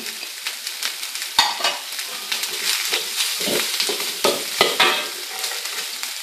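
Diced bacon frying loudly in a pan for fried rice, a steady crackling sizzle broken by repeated scraping stirs and clinks of a utensil against the metal.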